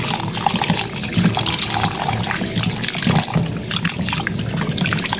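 Chicken meat for adobo is rinsed under a running kitchen tap, water splashing and trickling continuously and close over the whole stretch.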